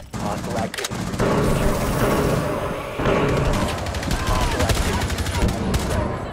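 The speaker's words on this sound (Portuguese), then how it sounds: "A arma do Kev é muito forte, velho. É, dois tiros" Rapid gunfire in Rainbow Six Siege crackles in bursts with sharp, heavy shots and short pauses, while voices talk over the action.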